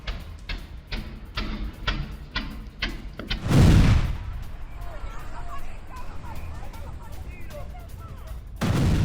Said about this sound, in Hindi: ब्रेकिंग और शॉट आसमानी विस्फोट से पूरे काराकास में दहशत।